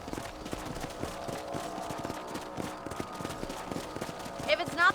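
A horse gallops in Red Dead Redemption while its rider patrols a ranch property. Steady, rhythmic hoofbeats keep a brisk pace throughout, joined by some background sound and a sharper noise near the end.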